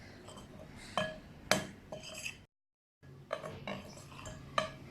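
A spoon clinks and scrapes against a bowl while dry powdered spices are mixed for chicken tenders, sharp irregular taps in two bursts separated by a brief silence.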